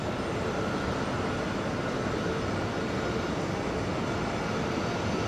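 A British Airways airliner in the distance at JFK airport, a steady broad engine roar holding at an even level throughout with no talking over it.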